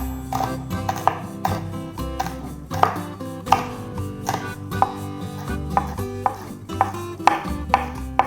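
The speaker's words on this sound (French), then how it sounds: "on va prendre des petits piments que je vais hacher grossièrement" A knife coarsely chops seven or eight small chili peppers for Réunion-style salt cod rougail, with sharp, close board knocks falling in an irregular but steady rhythm and no voices.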